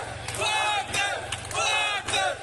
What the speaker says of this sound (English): Images of Russians cheering Wagner forces will have sent chills through the Kremlin